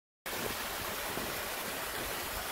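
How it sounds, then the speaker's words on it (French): A waterfall on a stream at Mont Saint-Sacrement gives a steady, broadband rushing hiss. It is close and constant, starting abruptly after a brief silence, with no voices over it. "Là, après ça, c'est la cascade."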